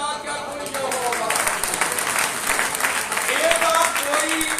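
A congregation at a Sunday church meeting claps steadily and fairly loudly while a preacher's voice carries on over the applause.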